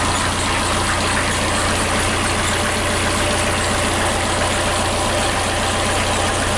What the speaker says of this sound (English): the engine's labouring a bit because the batteries are a long way down